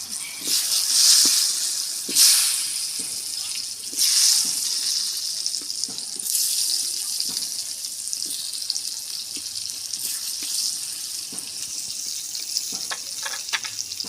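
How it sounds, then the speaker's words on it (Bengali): Potatoes frying in hot oil, seasoned with Kashmiri chilli powder, give a steady bright sizzle. Several louder surges of hissing rise through the middle, and scattered small spatters and clicks run throughout with no talking. "আলুগুলো আমি ভালো করে ভেজে নেব"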